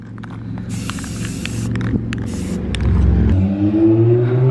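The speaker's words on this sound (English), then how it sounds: "Loud ass Mini Cooper." A loud Mini Cooper drives by outside, its engine note rising and droning louder toward the end, heard over a nearby hissing spray can in short bursts with faint clicks.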